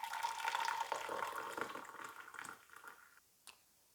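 Rose tea pours into a transparent glass teacup, a soft close trickle and splash that tapers off over a few seconds, ending with a faint clink.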